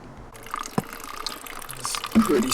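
A slow water source on the Pacific Crest Trail in Washington trickles and drips slowly into a container, close by and faint, with a little ambient noise around it.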